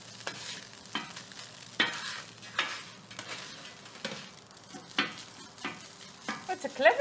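Egg fried rice is stir-fried in a hot pan with a low sizzle and repeated rhythmic scrapes and knocks of a spatula. Clatter grows busier toward the end, and no voices are heard.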